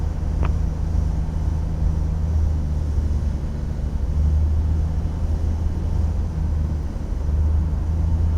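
A light airplane taxiing, heard from inside the cockpit as a steady low engine drone and hum, loud and constant throughout with no talking.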